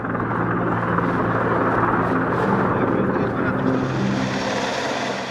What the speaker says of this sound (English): the Cold War-era Mi-26 has been the largest and most powerful helicopter anywhere in the world.